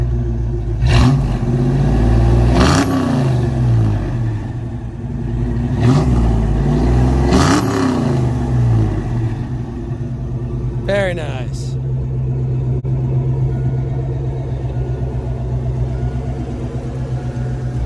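A 1988 Ford Mustang Foxbody with an aging V8 gets three strong revs at close range over a steady idle, rising and falling in a rhythmic pattern; a voice speaks briefly near the end.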